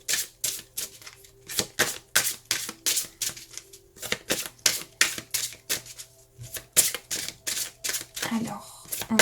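Oracle de Gaïa cards are shuffled by hand in a rapid, rhythmic series of close riffling bursts, steady and repeated, with a voice talking underneath.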